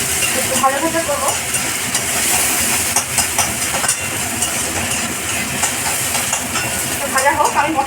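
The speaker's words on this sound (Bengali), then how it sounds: "একটু ভাজা ভাজা করবো।" Onion, tomato and green chili sizzle in a hot pan, a continuous loud hiss with occasional stirring scrapes, close by, and a voice talking intermittently over it.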